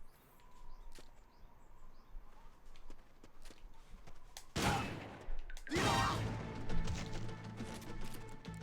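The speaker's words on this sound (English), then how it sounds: "I heard gunfire." Gunfire in Metal Gear Solid: Peace Walker comes as two sharp, loud bursts partway through, after quieter scattered clicks and taps against a faint background.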